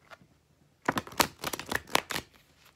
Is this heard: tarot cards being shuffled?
yes